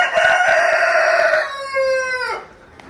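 A rooster crows once nearby, loud and clear, a drawn-out call that rises and then trails off abruptly at the end.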